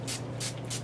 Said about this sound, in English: I'm going to spray the Dewy Finish setting spray all over my face